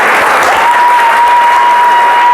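Studio audience at a BBC Radio 4 comedy award recording breaks into loud, dense applause that stays steady and sustained throughout, with no voices over it.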